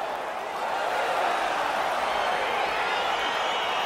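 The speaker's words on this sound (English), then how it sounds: "crowd getting excited as this fight gets underway" A dense, steady roar of an arena crowd cheering at a UFC fight in EA Sports UFC 4, broad and continuous, swelling slightly after the first half second and holding at a loud level.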